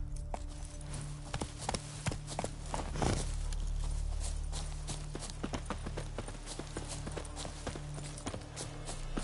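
Hooves of Roach, Geralt's horse in The Witcher 3 on PS5, clop in a steady walking rhythm, close and fairly crisp, over a low ambient hum. A short whoosh-like swell is heard partway through.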